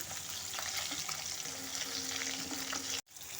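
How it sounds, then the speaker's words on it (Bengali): Fish pieces frying in oil give a steady, close sizzle with light scraping and stirring, then cut off sharply near the end before a quieter hiss comes back. "এই চিটটা ভেজে নিচ্ছি"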